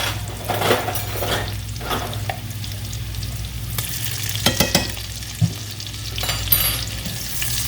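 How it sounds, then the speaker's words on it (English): A tablespoon of minced garlic sautés in butter or oil in a pan, a lively frying sizzle with scattered clinks and scrapes of a utensil, close and with no one speaking. "While this is sauteing, I'm going to add a tablespoon of minced garlic"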